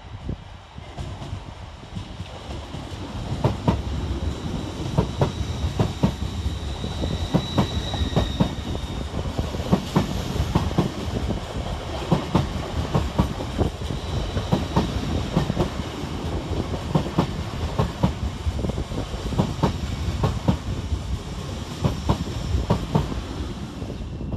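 An LNER Class 801 passenger train, unit 801225 bound from Newcastle to London King's Cross, runs through Bowes Park station with steady loud rumbling and rhythmic wheel clatter that builds after the first few seconds and continues throughout.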